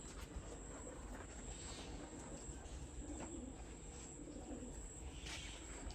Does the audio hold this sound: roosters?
no